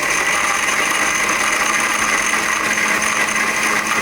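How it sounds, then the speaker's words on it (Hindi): A blender grinds ice for a mint margarita, a loud, constant, high whirring roar that holds steady without a break, heard alone. "अब हमने काफ़ी सारी आइस इसके अंदर डालनी है। ये देखें, और इसको हम ग्राइंड कर लेंगे।"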